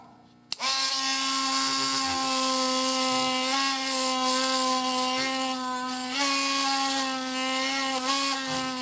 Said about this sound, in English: We're going to turn it on and we're going to go over the fret just like that, right over top of it.